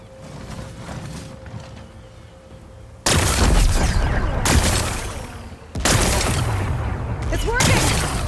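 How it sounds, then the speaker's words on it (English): In Horizon Forbidden West, rocks are blasted away to expose a power cell. Two loud, sudden explosive bursts land a few seconds apart, each followed by a rumbling roar. A quieter stretch with a voice comes before them. "Gotta blast away some rocks, so I can expose the power cell."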